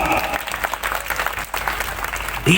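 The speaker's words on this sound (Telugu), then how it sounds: "పిల్లలకి గట్టిగా చప్పట్లు కొట్టు." A crowd at a Hindu gathering claps loudly for children, steady applause filling the space, with a brief rise at the very end.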